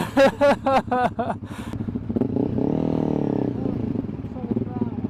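A CF Moto 450 MT rides off-road, its engine rumbling and rising under clattering terrain noise after a short burst of voices at the start.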